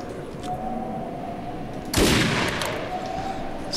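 A fully automatic shotgun fires in the Defiance video game, a sudden loud burst of blasts cutting through steady background hum partway through and then fading.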